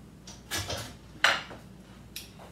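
A metal pastry blender cuts butter into flour in a bowl for strawberry shortcake, giving three separate scraping, clinking strokes, the middle one loudest and sharpest, close up with no talking.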